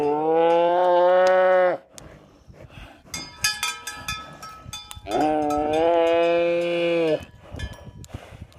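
Cattle bellow in two long, loud, drawn-out moos on a cattle drive, with a rough clatter of shuffling and knocking between the calls.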